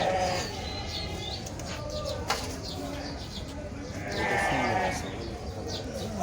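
Fat-tailed dumba sheep at the Gabtoli livestock market bleat amid a busy, noisy crowd, with several nearby cries rising over constant background chatter and bustle.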